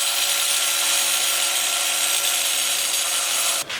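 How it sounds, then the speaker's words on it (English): Threads being cut off an original Toyota Corolla tie rod, a loud, steady, high-pitched metal-cutting whine running close and continuous before stopping abruptly just before the end. "We're gonna cut the threads, make it like halfway shorter."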